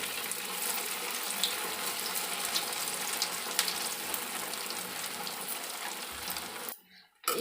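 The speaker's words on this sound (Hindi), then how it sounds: "दोबारा बैच भी हम फ्राई कर लेते हैं।" Sabudana pakoras deep-frying in hot oil, a steady dense sizzle and bubbling that fills the space close up, cutting out briefly near the end.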